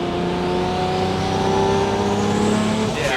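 A Lamborghini Murcielago with an engine fault pulls under load, its engine note holding steady and close with a rough, uneven edge before it stumbles briefly near the end.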